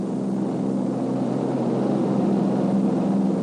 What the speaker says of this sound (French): le B-29 de lancement décolle avec le second X-1 dans sa soute à bombe modifiée